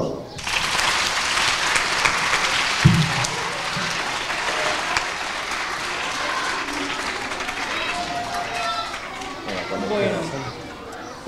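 Audience at a primary school applauds an author, a loud, sustained wash of clapping from a sizable group of children and adults, with some chatter and a few shouts mixed in before it tapers slightly.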